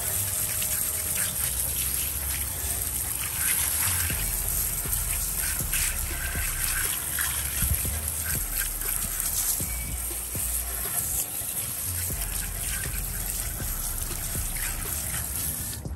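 Water gushes and rinses steadily over graphene-coated car paint during auto detailing, a loud, continuous spray and splash that holds for the whole stretch with no talk over it.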